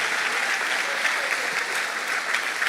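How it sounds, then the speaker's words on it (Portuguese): Steady, dense applause from a church congregation clapping in worship, filling the room evenly for a few seconds with no pause. "Vamos bater uma salva de palmas para Cristo,"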